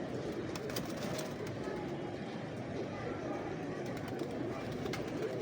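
A dense, steady murmur of many Ferozpur pigeons cooing together, a continuous low warbling that fills the space without pause.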